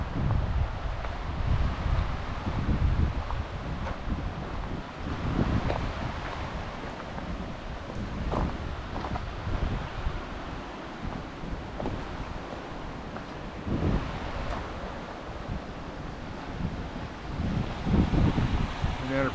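A river in New Mexico flows and rushes steadily, a broad, continuous wash of water noise heard close by, with wind buffeting the microphone and a voice speaking at times over it.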